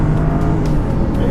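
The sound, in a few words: luxury car accelerating at full throttle, 0 to 60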